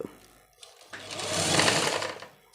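A sewing machine stitches falls onto a saree, a short burst of rapid needle clatter that swells in and trails off after a brief quiet pause and a few faint clicks.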